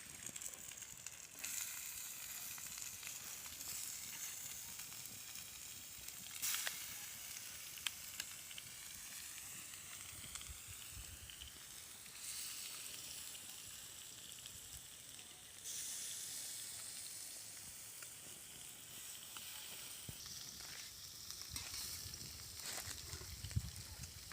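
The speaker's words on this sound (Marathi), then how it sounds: "तेल तापल्यानंतरच आपल्याला त्यावरती असे पीस ठेवायचे आहेत" Chilapi fish pieces frying in hot oil give a steady, loud sizzle with bubbling crackle that rises and swells in waves, with no voices over it.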